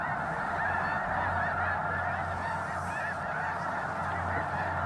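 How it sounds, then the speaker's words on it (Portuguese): Flocks of snow geese honking on a prairie lake in early spring, a dense, continuous chorus of many overlapping calls carrying steadily at moderate distance, with no talking. "Bandos de gansos das neves relaxam de sua migração anual"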